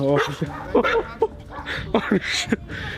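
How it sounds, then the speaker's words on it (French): A dog barks and whimpers several times in short, irregular bursts on a street, fairly close and mixed with people's voices nearby. "Mec, il est trop inquiétant ce chien."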